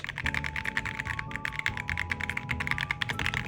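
Rapid keystrokes on a Redragon Eisa K686 Pro SE mechanical keyboard clatter in a steady, busy stream, close up, with clicky key sounds and no talking.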